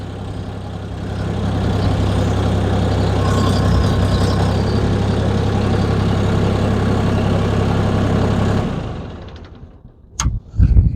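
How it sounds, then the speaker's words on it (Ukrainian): A large Chinese three-wheeled tractor engine runs at a steady low rumble for several seconds, loud and close, then shuts down, followed by a few clanks. "працює мотор файно, теж не шумно, все хорошо"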